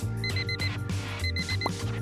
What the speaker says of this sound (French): Je dois appuyer sur tous les boutons pour éteindre l'alarme?